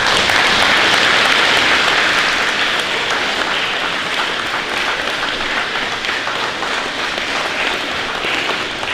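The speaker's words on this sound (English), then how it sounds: "Can you give them a round of applause?" An audience at Celina Middle School's 2021 academic awards ceremony breaks into loud, sustained applause for honor roll students, a dense wash of many hands clapping that eases slightly but carries on for the full stretch.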